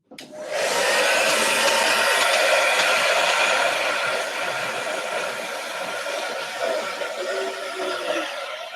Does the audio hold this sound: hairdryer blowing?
yes